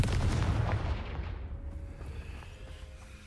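A Confringo fire-blast spell bursting in the Hogwarts Legacy video game: one loud, deep, rumbling explosion that fades over a few seconds, with no voices.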